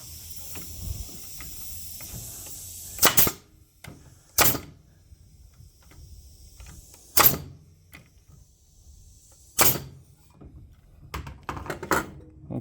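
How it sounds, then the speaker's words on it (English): An old Paslode pneumatic framing nailer with slight air leaks fires nails in four loud, sharp bangs a few seconds apart, with softer clicks and knocks of handling in between and near the end. "Okay, it's firing in the nails."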